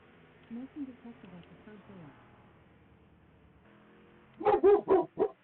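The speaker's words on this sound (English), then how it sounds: "Ignore my dog in the background" A dog in the background lets out a quick run of four loud, close barks near the end, after a stretch of quieter talking and low droning sounds.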